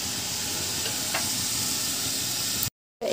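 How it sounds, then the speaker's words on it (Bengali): River fish fries in a pan with salt and turmeric, a loud, steady close sizzle with a faint knock partway through, then a sudden brief silence near the end. "এর মধ্যে দিয়ে দিয়েছি একটু হলুদ দিয়ে ভালো করে একটু ভেজে নিচ্ছি।"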